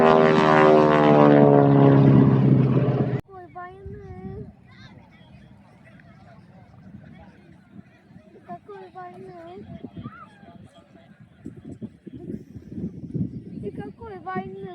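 A propeller aircraft flies aerobatics at the West Midlands Airshow 2025. A loud, droning engine roar fills the first three seconds, then gives way to a quieter background hum while a commentator talks over it.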